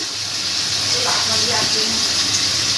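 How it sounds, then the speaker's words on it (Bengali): Shrimp fry in a hot pan, a loud continuous sizzling hiss that fills the whole stretch while someone speaks over it. "চিংড়ি মাছ হচ্ছে এই যে ভাজতে বসিয়ে দিয়েছি"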